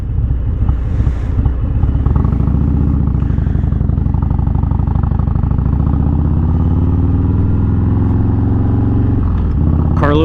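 A 2020 Harley Davidson Low Rider S rumbles steadily on a San Antonio freeway with a deep, loud engine drone and wind roar throughout, its pitch rising as the bike accelerates, while a rider talks over it.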